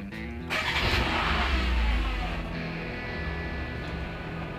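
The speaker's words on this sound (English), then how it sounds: "Turn on the engine and let it work for about 1 minute so the oil filter retains a bit of oil." A Dacia Renault Logan with the 0.9 TCe engine cranks, catches and revs briefly, then settles into a steady idle. The start is close and loud, and the engine keeps running evenly with no voices.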